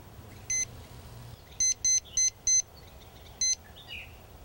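A small timer worn around the neck gives a series of short, identical electronic beeps, one alone then a quick run of four and another, clear against a quiet outdoor garden background.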